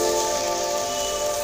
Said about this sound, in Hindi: देखिए कितनी बारिश हो रही है यहाँ पर।